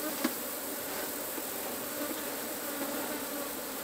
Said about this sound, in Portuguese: Agora a gente bate fumaça para essas abelhas aqui saírem de cima